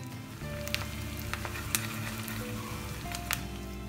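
A tempering of curry leaves and Kashmiri red chili powder sizzles in hot oil, giving a steady hiss broken by sharp spits and pops, with a low background hum beneath.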